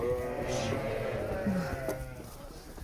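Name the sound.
sheep bleating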